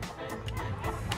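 Chickens perched in trees on a farm cluck in a low, scattered chorus, with soft repeated calls at a moderate distance.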